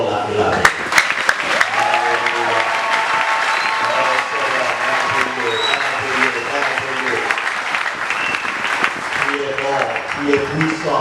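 Congregation clapping steadily through a Sunday church service, dense sustained applause with music or singing woven underneath and a voice speaking over it.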